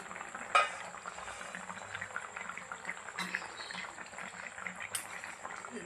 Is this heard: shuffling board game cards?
no